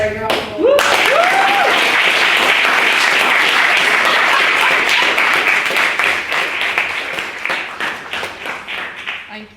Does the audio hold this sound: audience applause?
yes